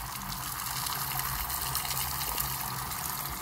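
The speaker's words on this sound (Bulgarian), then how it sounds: "Сега да пуснем мивката до край." A kitchen sink tap opened all the way, water gushing loudly and steadily into the basin without a break.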